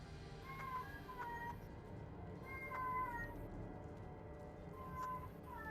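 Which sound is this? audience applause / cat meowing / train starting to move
cat meowing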